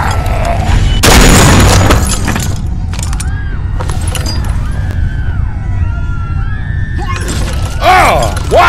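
A single loud gunshot crack in the zombie video game The Walking Dead: 400 Days, a sharp burst early on that rings out over ambient noise, followed by scattered clatter and faint game sounds.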